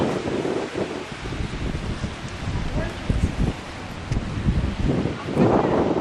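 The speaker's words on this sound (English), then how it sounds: "It's windy, it's chilly," Chilly wind by the sea in Patagonia near Punta Arenas buffets the microphone in uneven gusts, with thumping low rumbles swelling and easing over a constant rushing hiss.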